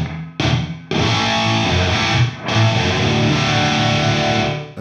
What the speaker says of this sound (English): That's quite a lot of reverb on there.